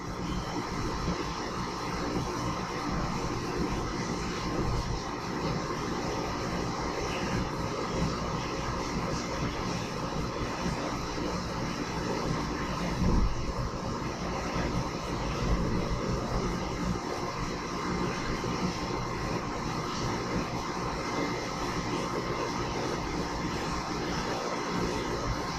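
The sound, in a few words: filtrate flowing into tank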